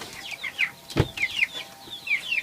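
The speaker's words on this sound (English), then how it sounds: "Go chicken." Chickens at a house in the Philippines cluck in short, repeated bursts, with one sharp thump partway through, close by and fairly clear.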